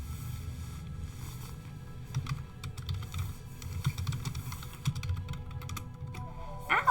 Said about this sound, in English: Let me type something.